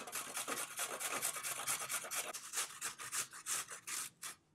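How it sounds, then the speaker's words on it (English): Carrots rubbed against the large holes of a box grater make a steady series of close, rasping strokes with no talking, fading out at the end. "Here with my box grater, I'm using the large holes here, and we're just going to grate this until it's done."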